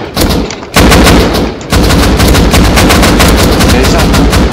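Loud, close video-game gunfire: a burst of shots, a brief gap, then sustained rapid automatic fire that rattles on steadily to the end.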